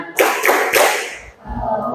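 Close hand claps in a classroom during a children's song: three sharp claps in quick succession, then a short lull followed by a low thump.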